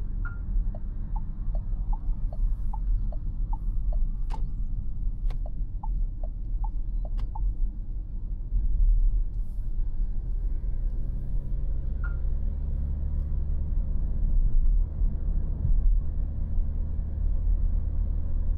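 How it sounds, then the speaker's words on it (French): A Renault Symbioz 2025 hybrid's engine runs quietly to keep the battery charged, giving a low, steady rumble with a short series of faint high chirps early on. "Maintenant, le moteur tourne parce qu'il essaie de maintenir l'énergie de la batterie autour de la moitié"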